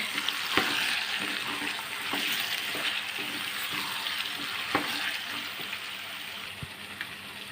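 Ginger garlic paste fries with mixed vegetables for a four-vegetable curry, a continuous close sizzle and crackle in the pan punctuated by occasional spoon clicks and scrapes, steady and moderately loud with no voices.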